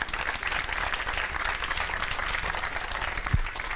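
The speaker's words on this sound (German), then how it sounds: "Ich würde sagen, erstmal einen großen Applaus." An audience applauds steadily, a dense wash of many hands clapping at once that holds at even loudness throughout.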